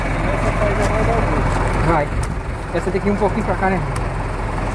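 A tractor engine runs steadily at a farm bonfire site, a loud low rumble under the whole stretch while people talk over it nearby.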